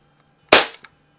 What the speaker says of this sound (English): last shot with the chronograph here.